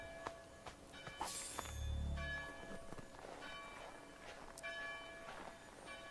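Alarm bells ring at a fort in the Assassin's Creed 3 video game, faint and distant bell tones repeating under a busy wash of game ambience and footsteps, with no talking.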